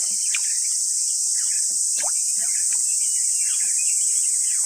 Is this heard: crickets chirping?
yes